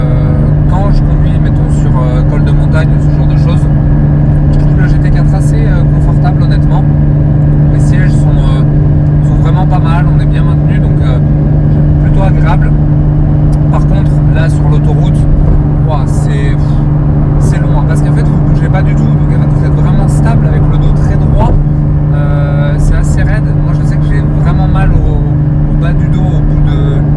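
Porsche GT4 cruising on the motorway, a loud, steady drone of engine and road noise from inside the cabin that runs throughout without a break, with a voice talking over it.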